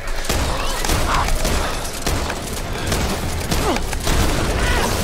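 Heavy overlapping gunfire and booms in the co-op zombie shooter Back 4 Blood, loud and continuous, with repeated sharp shotgun blasts cutting through the dense combat noise.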